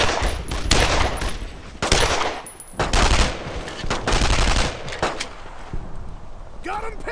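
Sustained machine gun covering fire in the WWII shooter Brothers in Arms: Road to Hill 30 on PC, loud dense bursts with brief gaps, under shouted soldier voices.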